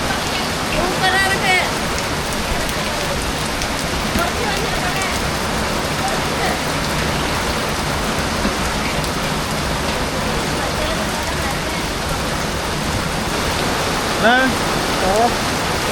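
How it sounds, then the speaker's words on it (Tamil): Heavy rain pours steadily onto an outdoor wood-fired stove, a dense, loud, continuous hiss of drops with a few faint clinks and thuds. "மழை மழை எப்படி ஏன் அடுப்பெல்லாம் நினைஞ்சு போச்சு"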